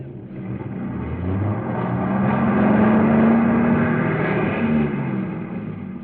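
A car engine straining and revving while stuck in a ditch, a steady loud motor drone rising in pitch through the middle before easing off, with no talk over it.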